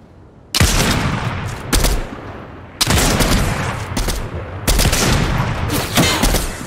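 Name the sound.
gunfire in a shooter video game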